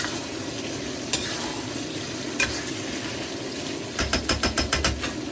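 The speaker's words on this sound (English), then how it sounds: "Fresh Sichuan peppercorns. In they go. And now toss." Fresh Sichuan peppercorns hit sauce in a hot wok and sizzle steadily. Near the end, a quick run of rattling metal scrapes follows as the wok is tossed.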